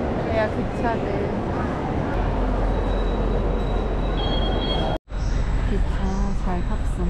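A regional train in Italy rumbles steadily on the rails with a low continuous roar, faint wheel squeal and clatter, a brief cutout partway through, and people talking in the background.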